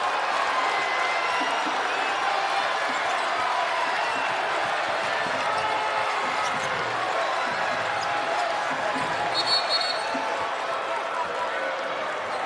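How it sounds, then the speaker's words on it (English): A basketball arena crowd stands and roars through a tense final possession of a Saint Louis versus SIUE game, a steady dense wall of cheering with a commentator's voice running beneath it. "This crowd's on their feet."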